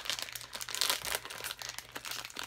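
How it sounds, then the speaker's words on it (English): Crinkly foil rustles and crackles in bursts up close as a Pusheen plush blind box foil packet is cut open with scissors and handled, with no talking. "And cut it open with the scissors here."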